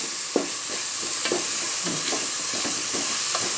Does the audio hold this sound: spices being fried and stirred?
yes